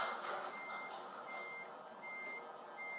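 A Volvo FH16 truck in Euro Truck Simulator 2 sounds its reversing alarm, about four evenly spaced high electronic beeps, fairly quiet over a low, steady engine hum.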